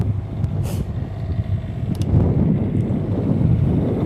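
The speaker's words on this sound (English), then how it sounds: "The wind is making more noise than the generator is." Wind buffets the microphone outdoors beside a running generator and motorhome, a low, gusty rumble that swells louder midway, with a few faint clicks and a soft hiss early on.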